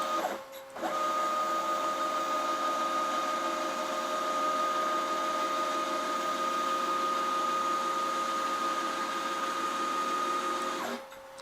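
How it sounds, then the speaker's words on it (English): A CNC router carves two tiles at once, a steady loud mechanical whine with sustained tones starting abruptly after a brief pause near the beginning and cutting off near the end, with no talk. "that's about the limit of my machine, and that's while we're cutting 2 tiles"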